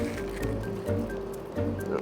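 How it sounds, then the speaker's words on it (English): Doritos tortilla chips crushed by hand for a prison-style meal, giving soft crinkly squishing bursts in a few short rhythmic rounds, close and moderately loud. "Let's grab some Doritos. Crush it up and throw it in there."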